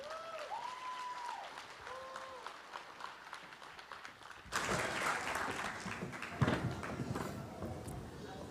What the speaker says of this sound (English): Can you guys give a welcoming round of applause